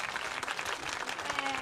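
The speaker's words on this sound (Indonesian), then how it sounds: "Tepuk tangan dulu ya." Audience applause at a JKT48 special Ramadan event, a brief burst of dense clapping from a crowd, fairly faint and distant, filling the whole moment.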